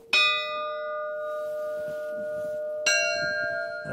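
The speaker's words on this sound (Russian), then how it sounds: "Эти колокола пожертвовали же нам вот позапрошлом году из Тутаева города." Two clear strikes of a village church bell set donated from the town of Tutaev, each a bright metallic clang with a long ringing hum that lingers between them, close and alone.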